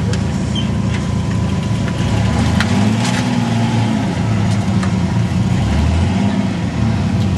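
An off-road 4x4 with big tires grinds over rocks on a backcountry trail, its engine rumbling at low revs with a few rising strains, loud and continuous from start to finish.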